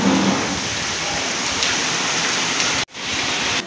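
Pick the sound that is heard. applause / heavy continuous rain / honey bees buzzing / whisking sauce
heavy continuous rain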